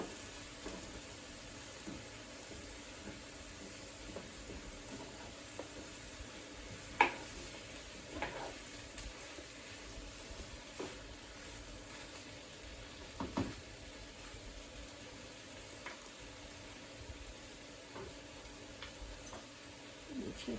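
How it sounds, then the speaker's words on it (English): Faint steady sizzle of polenta cooking with sautéed summer vegetables in a pan, with soft occasional spoon scrapes and ticks from stirring, quiet and continuous throughout with no talking. "you want to keep stirring it because you don't want it to become a thick clump"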